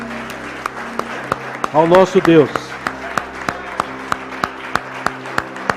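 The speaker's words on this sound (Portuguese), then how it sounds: "aplauda Ele, Ele está aqui." Worshippers at a Portuguese-language church service clap steadily in rhythm, crisp evenly spaced claps running throughout while voices briefly sing over them.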